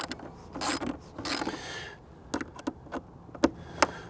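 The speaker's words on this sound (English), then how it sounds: "take this T15 and we're going to undo the restraint holder with the Tour Pak" A T15 Torx driver loosening the restraint holder on a motorcycle Tour Pak, heard as a few close ratcheting clicks and short mechanical rattles in uneven bursts, no voices.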